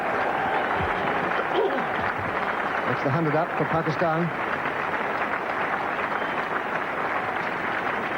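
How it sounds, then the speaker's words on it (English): Cricket crowd at Headingley applauds steadily at a 1979 World Cup one-day match between England and Pakistan, a continuous wash of clapping with a commentator speaking over it. "Good applause"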